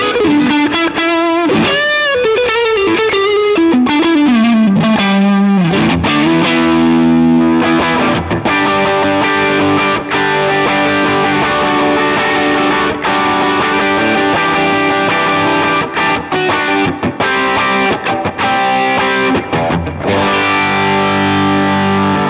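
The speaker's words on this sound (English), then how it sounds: "So on channel A is a tube screamer." Electric guitar driven through a Tube Screamer overdrive on channel A of a pedalboard, loud and continuous, starting with bending lead lines and moving into dense overdriven chords and riffs with no talking.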